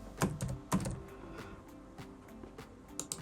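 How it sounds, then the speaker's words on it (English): A password is typed on a computer keyboard, a quick run of light key clicks with two firmer strikes early on, close and alone without any talking. "And then simply type in a password that you want to use."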